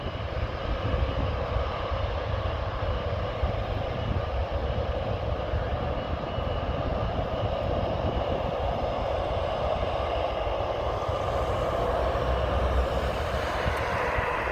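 A KLM Boeing 737 at Amsterdam airport's Aalsmeerbaan runway gives a broad, continuous jet engine roar that holds steady and moderately loud throughout, with no voices.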